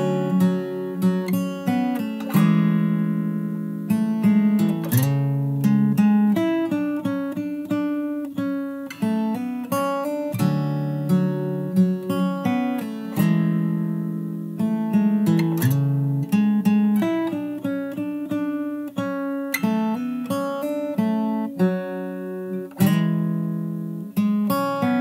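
Steady fingerstyle guitar plays the verse of a song, with bass notes and melody plucked together in a continuous, evenly paced pattern of ringing notes, close and clear with no talking.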